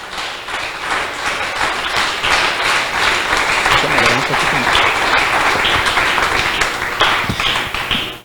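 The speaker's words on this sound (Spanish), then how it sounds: "¿Puede dar un aplauso al Señor esta noche?" A church congregation applauds the Lord during an evening service, a loud sustained round of clapping lasting the whole stretch, dense and steady with some cheering voices mixed in before it cuts off.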